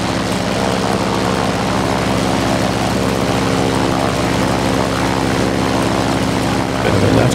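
A Grumman F4F-4 warplane's propeller engine roars at full power, a loud, steady droning hum with constant buzzing harmonics lasting throughout, no voices.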